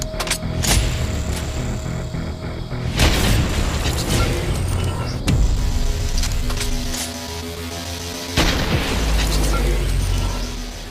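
Heavy sniper rifle shots in Fortnite boom out as a few loud, spaced blasts over a busy background of game noise and music, each shot followed by a decaying rumble.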